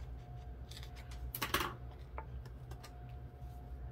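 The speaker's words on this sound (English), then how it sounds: "Let's trim this corner up here." Paper corner trimmed for a papercraft pumpkin project, a short crisp snip or slice near the middle with a few light taps and handling clicks around it, close and quiet against a steady low room hum.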